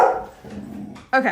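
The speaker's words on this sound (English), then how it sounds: "Excuse my dog." A dog barks a few times nearby, short sharp yelps mixed with a person speaking briefly.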